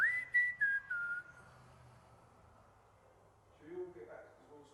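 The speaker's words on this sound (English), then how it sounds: "No, whistling keeps continuing." Unexplained whistling heard in a room at Manston, a thin tone that slides downward over about a second, followed by quiet room noise and then a faint murmur of voices near the end.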